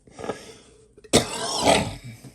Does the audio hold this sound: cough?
yes